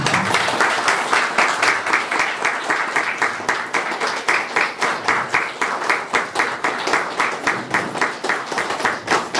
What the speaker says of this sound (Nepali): सबैजना उठ्दिनु होला र ताली पेट्दिनु होला।